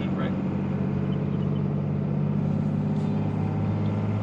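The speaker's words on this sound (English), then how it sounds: "Got us down to under 25 for that turn with no service brakes, just engine brake." A 2001 Dodge Ram 24V diesel with six-speed manual, engine braking while towing a camper down mountain roads: a steady low droning rumble of the engine held under load, constant and close, with someone talking over it.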